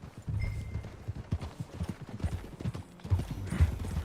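Horse hooves clip-clopping at a walk in Red Dead Redemption 2, an uneven run of close thuds with a brief whinny-like tone, no talk over it.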